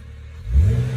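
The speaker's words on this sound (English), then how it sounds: "I'm going to give it a little rev so you can hear that" BMW 330i E92 engine given a short rev, rising from a low idle rumble into a louder, deeper surge of roar in the second half, close and alone.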